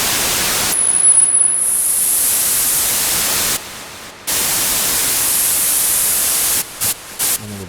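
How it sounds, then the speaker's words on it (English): A Roland JP-8080 synthesizer produces loud, broad hissing white noise that cuts out briefly a few times, with a thin high tone near the start. "white noise on the top end."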